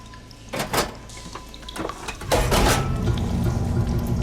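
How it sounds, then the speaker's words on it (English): Machinery in Horizon Forbidden West switching a water flow: a couple of clanking metallic thuds give way to a steady, loud rushing of water that continues to the end. "Sounds like the water's switched."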